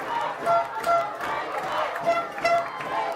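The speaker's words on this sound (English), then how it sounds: "Highlander fans cheering" Highlander high school football fans in the stands raise scattered cheers and shouts at a moderate distance, swelling and fading in short bursts over a steady crowd murmur.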